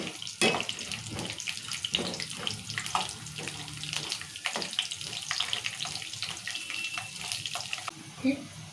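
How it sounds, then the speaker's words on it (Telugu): Peanuts and chana dal crackling and sizzling in hot oil in a home kitchen pan while making wheat rava upma, a dense continuous hiss with scattered sharp pops throughout, fairly close. "పల్లీలు చిటపాటు అంటున్నాయి"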